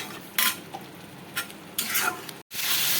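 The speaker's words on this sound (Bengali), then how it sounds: "এবারে মশলাটাকে আমি মিডিয়াম ফ্লেমে রেখে কষাতে থাকবো আলু পেঁয়াজের সঙ্গে" Spice paste sautéing with potatoes and onions over a medium flame, a soft sizzle punctuated by several short bursts of stirring scrapes and clinks from the pan, with no talk.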